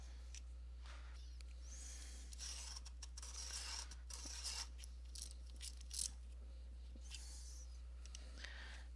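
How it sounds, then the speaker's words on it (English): A red earth coloured pencil is sharpened in short rasping, scraping bursts, close and quiet, with brief pauses between strokes and no talking. "I'm going to sharpen the red earth as well."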